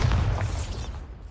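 A single Bombarda spell explosion in the video game Hogwarts Legacy, a short heavy boom with a quick decaying rumble.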